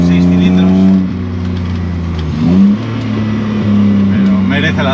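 BMW E30 fitted with an M52B28 straight-six engine pulling hard on a road, a steady harmonic drone that rises in pitch around the middle, with a voice talking over it throughout.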